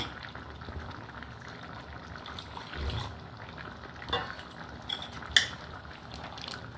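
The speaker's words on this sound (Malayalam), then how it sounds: "കുറച്ചും കൂടെ വെള്ളം ചേർക്കാം" Water is poured and stirred into a coconut curry ground with turmeric and cumin, giving a low, steady liquid wash with a few soft clinks and scrapes of a spoon against the pot.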